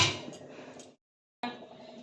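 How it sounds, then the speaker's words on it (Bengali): A metal wok (kadai) is set down on a lit gas stove. A clattering metallic clank rings briefly, silence follows, then a second sharp knock with a short ringing tail. "কড়াই বসাচ্ছি"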